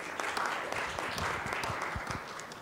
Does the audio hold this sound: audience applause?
yes